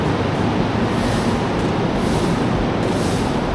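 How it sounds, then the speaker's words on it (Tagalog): A train rumbles past at Batu Caves station in Kuala Lumpur, Malaysia, a loud, dense and continuous roar of wheels and motion filling the whole stretch without a break, with no one speaking. "Ito yung tren, eh."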